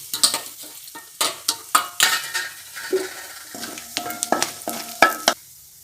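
Cinnamon, cloves and cardamom frying in hot oil, with a close sizzle broken by frequent sharp clinks and scrapes of a metal spoon stirring against the pan.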